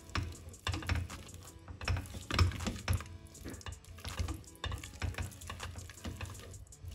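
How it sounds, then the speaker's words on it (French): A utensil stirs butter in a pan over low heat while it melts for a chocolate brownie batter with hazelnuts and pecans, giving close, busy clicking and scraping taps in an irregular rhythm with no talk. "je vais incorporer le beurre petit à petit en rallumant le feu"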